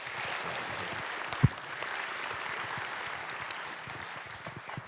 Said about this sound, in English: Let's give Rome a round of applause.